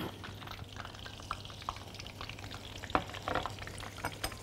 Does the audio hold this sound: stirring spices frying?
yes